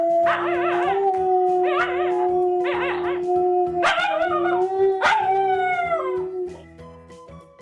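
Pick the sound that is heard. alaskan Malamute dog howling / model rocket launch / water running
alaskan Malamute dog howling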